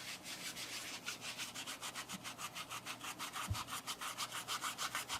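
Rhythmic rubbing strokes from buffing sealed alcohol ink art, a faint close scratchy back-and-forth repeating at an even pace, with no talk.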